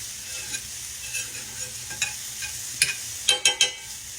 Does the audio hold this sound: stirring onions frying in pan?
yes